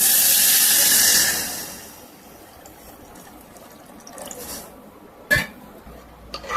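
Water poured into a hot pan of fried spices for a baby's moong dal khichdi, a loud burst of steamy hissing that fades to a quiet simmer, followed by a few light clinks.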